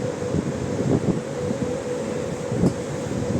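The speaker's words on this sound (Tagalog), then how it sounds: "malakas hangin" Strong gusty wind in San Francisco rumbles and buffets against the microphone, a constant low roar with occasional louder gusts and no talking.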